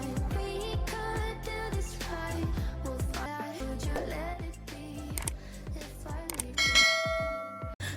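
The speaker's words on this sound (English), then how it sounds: "Turn on the notification bell" A notification bell sound effect rings out as a run of bright, struck chimes, overlapping and ringing over a steady musical backdrop for about eight seconds, ending in a sustained ring.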